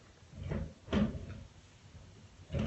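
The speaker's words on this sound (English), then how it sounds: "I'm going to look for some chapstick in my drawer" A bathroom drawer slides and knocks a few times, quiet and close, with soft bumps and rattles as someone rummages through it for chapstick.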